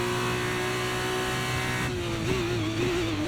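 Engine of an F2 race car in the F1 23 game at Bahrain, a steady high, buzzy note that dips and wavers as the car exits a corner, heard close and alone.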